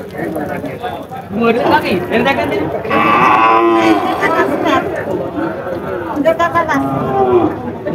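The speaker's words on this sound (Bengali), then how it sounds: "দেখতে পাচ্ছেন আপনারা গরুটা।" A young bull calf at the crowded Barobazar cattle market moos loudly in a long drawn-out call, with other cattle lowing nearby over continuous chatter and talking from the surrounding crowd.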